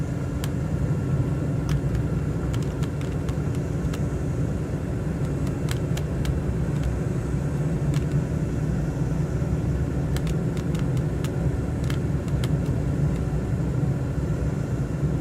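Airplane engine drone during a flight simulator game landing approach into Boston with flaps fully down, a steady loud low rumble throughout with faint clicks of controls above it.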